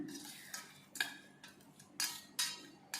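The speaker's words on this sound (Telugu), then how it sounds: "ఇవన్నీ కూడా మంచిగా అయితే మిక్స్ చేసుకుంటున్నాను" Spoon clinking against a bowl while Ugadi pachadi with neem flowers is mixed, light metallic taps coming about every half second in a quiet, close setting.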